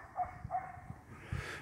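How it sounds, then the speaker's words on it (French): A neighbour's dog barks a few times in the distance, faint and short, with quiet indoor background noise around it. "Alors là, on entend le chien du voisin."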